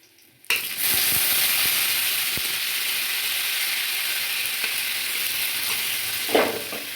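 Potatoes poured into hot spiced oil for a quick home-style aloo chorchori, with a sudden loud onset of sizzling that settles into a steady, close frying hiss with faint stirring clicks.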